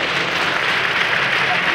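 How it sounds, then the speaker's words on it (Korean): Dense, steady applause from the crowd at a men's volleyball match, a continuous wash of clapping that stays loud and unbroken for the whole stretch, with no clear talk over it. "박수로 할게요."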